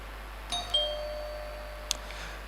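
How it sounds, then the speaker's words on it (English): A contestant's answer bell at a national business quiz championship rings once with a clear electronic ding-dong chime. A second brief strike follows later, all over a quiet, humming hall. "they are supposed to indicate their readiness to answer a riddle by ringing their bell."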